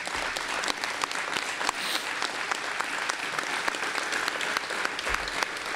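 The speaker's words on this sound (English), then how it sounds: "Can you please stand and please give her a round of applause?" An audience at a press conference gives the speaker's wife a round of applause: dense, sustained clapping from a crowd that holds steady for several seconds.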